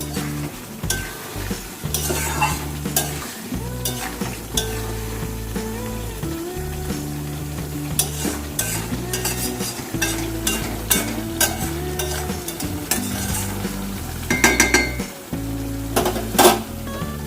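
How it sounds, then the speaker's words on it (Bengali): Chicken for a curry being stir-fried in a pan, with steady sizzling and repeated scraping and clinking of a utensil against the pan, close and continuous throughout, no talking. "দিয়ে আরেকটুখানি আমি চিকেনটা কষাচ্ছি।"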